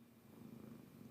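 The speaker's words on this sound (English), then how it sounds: "You can hear her purring." A cat purrs steadily and softly up close, a continuous low rumbling with a gentle pulsing rhythm and no voices over it.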